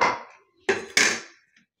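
Dry, crisp rattling bursts, three quick shakes of brittle, light dry-roasted chillies and garlic, separated by brief silences.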